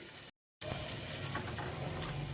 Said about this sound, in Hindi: दही के साथ अब हम इसकी और भी अच्छी तरह भुनाई करेंगे।